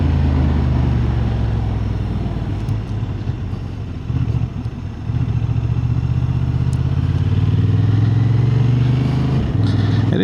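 A Honda Hornet 750 motorcycle being ridden, its engine droning loud and steady throughout with rumbling low tones, a brief dip in level midway as the throttle eases, then resuming strongly.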